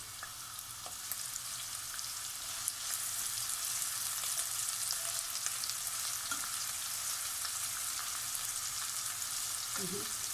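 Onions frying in a moderate amount of oil in a pot for borscht, giving a steady, close hiss and crackle that holds evenly throughout, with faint occasional stirring sounds.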